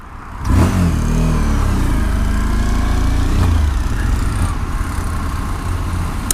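A Suzuki V-Strom motorcycle cruises at high speed, around 180. The engine gives a steady, loud drone, and heavy wind roar rushes over it for several seconds without a break.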